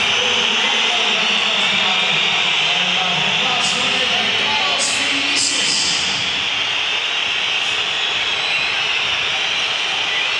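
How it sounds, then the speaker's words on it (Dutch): A large stadium crowd at a PSV versus Feyenoord football match in Eindhoven roars in a dense, continuous wash of noise, loud and sustained, with occasional louder swells and a Dutch commentator talking over it. "En luister naar het publiek."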